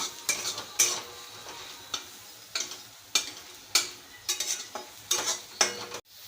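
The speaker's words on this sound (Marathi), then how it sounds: "थोडीशी आपण हळद टाकूया आणि व्यवस्थित आता परतून घेऊया" Onion being sautéed with turmeric in a pan: a spoon or spatula strikes and scrapes the pan in repeated sharp clanks at an irregular pace over a soft sizzle, close by, with no talking.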